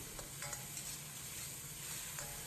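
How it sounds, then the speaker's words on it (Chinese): Soy sauce hits a hot wok with pork, aromatics and cooking wine, giving a steady loud sizzle with stir-frying scrapes and clatter throughout. "少许酱油炝锅"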